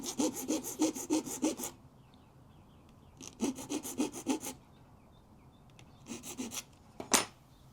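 A hand file works a soft aluminum lens ring from a Mamiya 645 manual lens in three bursts of quick, rhythmic rasping strokes separated by quiet pauses, close and crisp with no talking.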